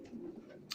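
Racing pigeons in a loft give a soft, low coo, brief and faint, ending with a short rustle.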